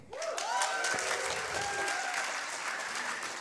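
An audience at a science slam during Berlin Science Week bursts into sustained applause for a volunteer, a dense, even roar of clapping with some cheering voices over it.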